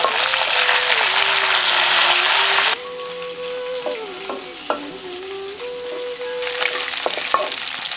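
Small onions and curry leaves fry loudly in hot oil for a mutton kofta curry, a dense, rain-like sizzle broken by stirring scrapes, with a sustained tone running underneath.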